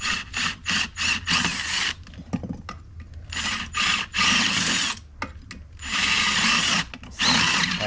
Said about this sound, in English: what you can do is drill in, and the drill sometimes picks up on the rubber